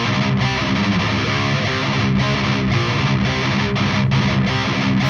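Electric guitar driven through a KHDK Paranormal II overdrive pedal at high gain, a thick saturated distorted tone strummed in steady chords that stays loud and dense throughout, with no voice over it.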